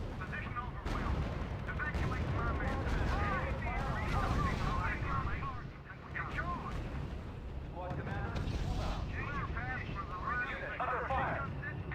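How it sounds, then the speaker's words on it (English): Artillery and gunfire from the World War II strategy game R.U.S.E. keep booming over a battlefield, with continuous rumbling blasts mixed under radio-style voices giving commands. "Under fire."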